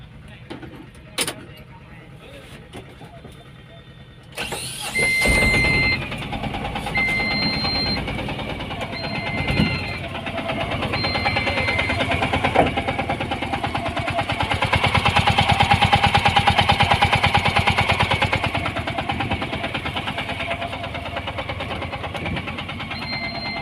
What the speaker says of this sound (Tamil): அண்ட் இப்போ வண்டியை ஸ்டார்ட் பண்ணி இன்ஜின்குள்ளே சவுண்ட் கேட்போம்.